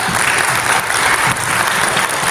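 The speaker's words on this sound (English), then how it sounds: "I think they deserve a clap." An audience at a school parent information evening applauds in a steady, dense wash of clapping with no break.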